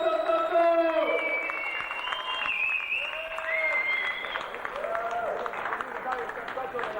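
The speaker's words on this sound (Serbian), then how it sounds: "sad aplauz, sad aplauz." Audience applause fills an award ceremony in Sombor, a steady, dense clapping that runs for the whole stretch, with voices and tonal sounds layered over it.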